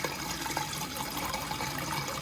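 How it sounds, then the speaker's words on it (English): Pumped water spills continuously over into an aquarium sump, making a steady close trickling and splashing rush with no talk. "as it moves water into the tank, that water is overflowing into here."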